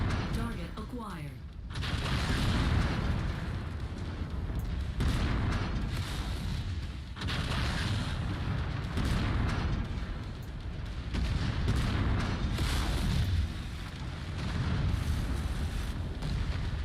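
Heavy gunfire and booming weapon blasts from enemy mechs in MechWarrior 5, arriving in repeated loud bursts with brief lulls between them, dense and close throughout.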